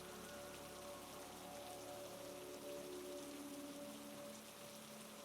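Steady rain falls on a surface in a cozy winter setting, a soft, even patter that stays quiet and continuous with no voices.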